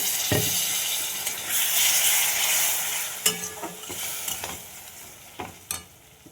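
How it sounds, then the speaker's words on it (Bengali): Water poured into frying spice paste of turmeric and Kashmiri chilli powder, stirred in a pan, with steady sizzling and scraping spatula strokes, a few sharper clinks, fairly close and without talk. "আমি এবার জল দিয়ে দেবো।"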